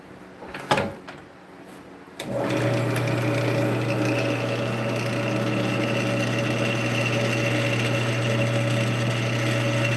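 A wood lathe spins up with a steady motor hum and whine after a couple of brief knocks, running continuously and fairly loud while turning dense bloodwood for a mallet.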